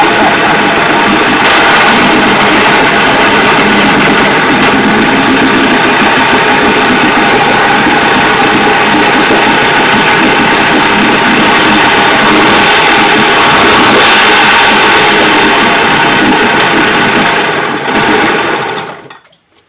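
A small engine picked up at a yard sale idles steadily and loudly with a rough, buzzing mechanical chatter, running continuously without talk until it cuts off abruptly at the very end.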